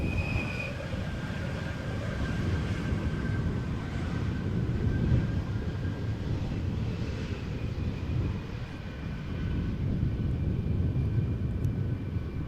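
An Embraer jet rumbles steadily at Amsterdam Schiphol Airport, a moderate, continuous engine roar with a faint high whine, heard alone without voices.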